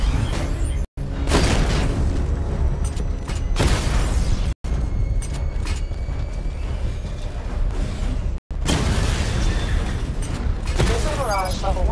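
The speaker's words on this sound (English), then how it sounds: "Destroy targets to charge up weapon energy and activate missile barrage." Missile barrage explosions in Batman: Arkham Knight, a dense, loud, continuous run of booms and blasts broken by three brief cutoffs, with game voice chatter over the top.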